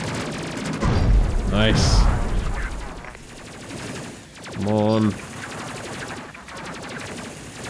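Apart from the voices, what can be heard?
plasma cannons firing in video game Space Crew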